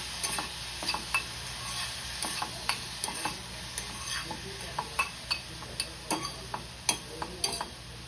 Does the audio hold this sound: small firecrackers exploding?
no